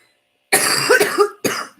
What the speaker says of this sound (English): Kind of like my cough.